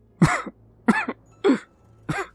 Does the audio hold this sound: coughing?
yes